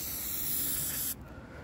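An aerosol spray can lays down a light coat of paint as a close, steady hiss for about a second, which cuts off abruptly and leaves quiet room tone.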